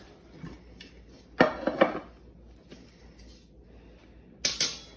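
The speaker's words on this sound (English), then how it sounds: "you put the platter on top, and then you flip the whole thing over." A bonCOOK Flexi Pan is turned over with a serving platter held on top. Two close, clattering knocks of cookware against the dish come in quick succession, then one more clack a few seconds later.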